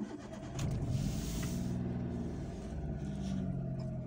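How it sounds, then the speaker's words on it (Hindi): A Maruti Suzuki Alto's three-cylinder engine is started and settles into a low, steady idle rumble that holds evenly, heard quietly from nearby with no talking. "आइए कार को एक बार स्टार्ट करते हैं।"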